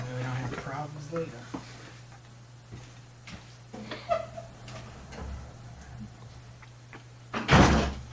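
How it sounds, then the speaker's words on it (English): A door pulled shut with a single solid thunk near the end, following light room noise and a steady hum. "let me close the door"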